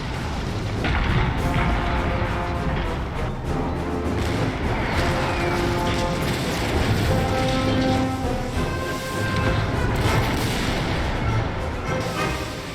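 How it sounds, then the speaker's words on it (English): French artillery cannon fire at the Battle of Ligny in 1815 rumbles as a dense, continuous barrage of booms and thuds, loud and sustained with no clear gaps. "As the Emperor signaled, the French guns thundered."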